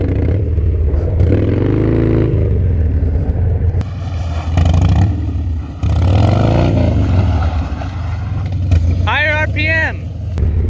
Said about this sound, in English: And then you got to keep those RPMs.